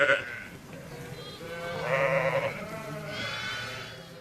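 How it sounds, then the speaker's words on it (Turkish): Several ewes and newborn lambs bleat in overlapping, wavering calls, fairly close, with a soft background murmur. "Annelerle kuzuları ses ve kokuları sayesinde birbirlerine kavuşuyor."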